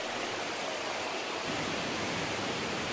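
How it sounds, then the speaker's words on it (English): An indoor waterfall display inside a Bass Pro Shops store gives off a steady dense rushing hiss of falling water, even and continuous from start to finish with no voices. "Yep, more waterfalls."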